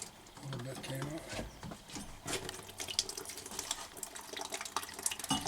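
Water gushes from a freshly cut cold water supply line during a tankless water heater installation, a steady broadband hiss and splatter with voices talking over it.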